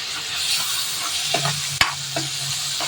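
Chopped tomatoes frying in a pan for tomato biryani hiss and sizzle steadily up close, broken by a few sharp scrapes and knocks of a spoon stirring them, with no talking.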